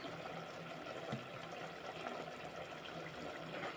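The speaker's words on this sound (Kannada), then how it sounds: "ನೋಡಿ ಫ್ರೆಂಡ್ಸ್ ಇದು ಕುದ್ದಿದೆ" Chicken curry boils in a pot with a soft, steady bubbling and watery churn, faint and unbroken, with no speech.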